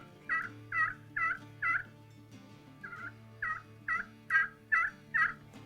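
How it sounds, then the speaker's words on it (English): A slate turkey call is worked with a striker, giving a run of four sharp rollover yelps, a short pause, then six more evenly spaced, clear and close. "just take your striker and run it in dime size circles, and that'll help you get the sound"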